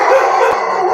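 Poodles howl and bark together in a sustained, fairly loud wavering chorus, with a brief dropout partway through and no talking.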